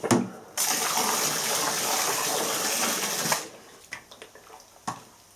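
Oily coolant pouring through a vintage machine coolant system, a loud steady gush for nearly three seconds that cuts off abruptly, followed by a few quieter drips and clunks.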